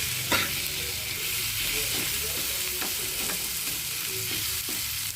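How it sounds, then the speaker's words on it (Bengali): Chopped tomato sautéing with onion, garlic and ginger in a pan for an eggplant bharta, a steady close sizzle with repeated scrapes of a stirring spoon, no voices. "টমেটোটাও ভালো করে পেঁয়াজের সাথে কষিয়ে নেব"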